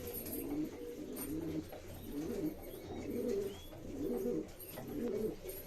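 Madrasi show pigeons, a breeding pair, coo in soft, repeated low phrases close by, a quiet rhythmic warbling that rises and falls with brief pauses.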